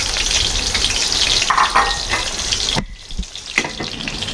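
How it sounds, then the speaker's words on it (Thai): An egg fries in a pan over high heat, a close, loud crackling sizzle that cuts off suddenly near the end, followed by a few brief clicks and a renewed softer hiss. "ไฟแรงไข่ดาวจะไหม้นะคะ"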